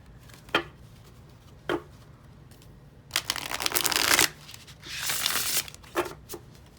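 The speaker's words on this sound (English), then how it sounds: "Now let's give it a shuffle and see how it shuffles." A few sharp snaps from tarot cards, then two bursts of riffled shuffling with a crisp flutter, followed by a couple more light taps; no voices.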